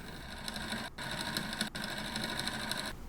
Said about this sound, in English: Resew the seam.